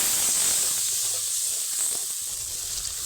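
Spice paste sizzles and hisses steadily in a pan after a splash of water, a continuous close frying hiss with soft bubbling and no voices.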